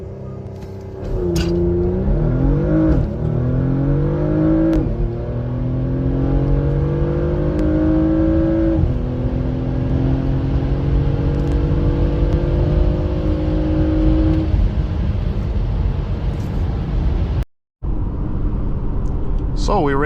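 A 2023 Porsche Macan S accelerating hard from a launch-control start, heard from inside as a loud engine roar climbing in pitch through several gear shifts, then a long steady high-speed drone with a brief cut near the end.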